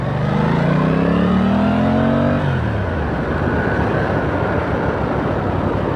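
An Aprilia Tuono 660 Factory motorcycle rides through central London streets, its engine note rising through a rev then dropping into a steady rumble with rushing wind and road noise, close and loud throughout.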